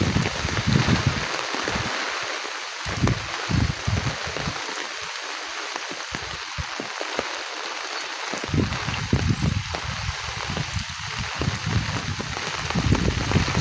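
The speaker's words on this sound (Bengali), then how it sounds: "বৃষ্টি হলে কত সুন্দর লাগে।" Steady rain falls in a village setting beside a canal and road, a continuous broadband hiss with denser patches, heard alone at moderate level throughout.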